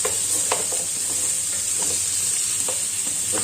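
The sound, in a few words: browning in butter in a pan for beef bourguignon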